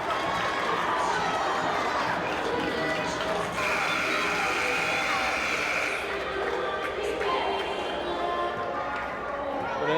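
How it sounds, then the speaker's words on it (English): Dense crowd noise fills a women's college basketball gym during a Jefferson College Lady Vikings game against Salt Lake CC Bruins, with steady chatter, shouts and cheering from the stands and the cheerleading squad, continuous and loud throughout. "The cheerleading squad still trying to get this crowd pumped up"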